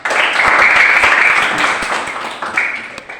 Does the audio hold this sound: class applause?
yes